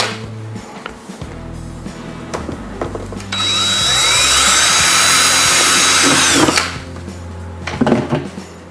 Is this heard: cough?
no